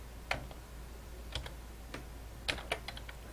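A few sparse, crisp clicks of a computer keyboard as single keys are typed, close and quiet against faint background hum, with no talking.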